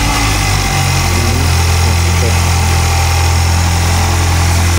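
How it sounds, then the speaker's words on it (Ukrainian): An Audi A5 engine on a cold start, turning over and then settling into a loud, steady idle with a deep low hum and constant vibration heard close up, with no talk. "Так, запуск на холодну."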